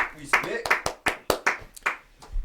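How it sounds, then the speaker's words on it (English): A single person claps hands in several sharp, uneven smacks close by, mixed with casual talk from people in the room. "Dude, this man clapped."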